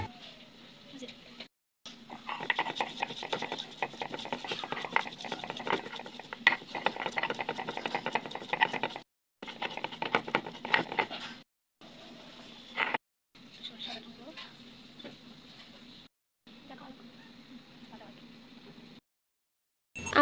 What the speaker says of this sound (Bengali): এখন আমরা শাপলা রান্নার জন্য প্রথমেই কিছু আদা ও জিরে বেটে নেব।